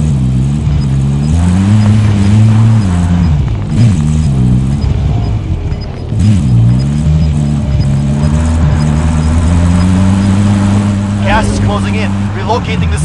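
A car engine hums and revs in a first-person video game, rising and falling in pitch as it drives. Game radio voices and talk run over the engine throughout.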